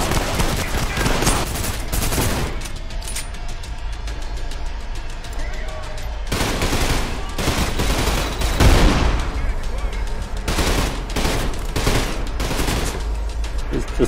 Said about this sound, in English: He's just panic firing